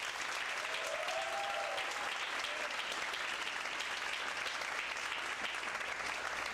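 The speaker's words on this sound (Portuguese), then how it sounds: "Uma salva de palmas para elas." An audience applauding at an accounting lecture at a university, a long, even roar of many hands clapping, heard from a distance and fairly soft, holding steady without a break.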